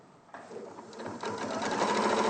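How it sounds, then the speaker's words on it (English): A sewing machine top stitches all the way around a bag, its steady whirring motor running continuously and growing slightly louder and denser toward the end, close by with no talking. "So you're just going all the way around, top stitching all the way around."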